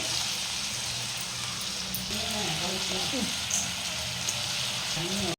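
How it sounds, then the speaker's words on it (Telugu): Ginger garlic paste frying in a pan sizzles and crackles in a steady hiss, while a voice talks quietly underneath. "అల్లవెల్లి పేస్ట్ వేసి వేసి బాగా వేయించుకోవాలి"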